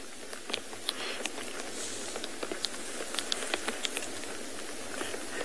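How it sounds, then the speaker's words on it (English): Steady rain falls over a wildlife reserve at sunrise, a soft continuous hiss with scattered close drips and patters, and no talking. "You can probably hear the rain now."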